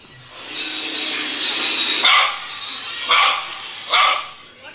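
A dog barks three times in short bursts over a steady background hiss, each bark loud and close, spaced about a second apart.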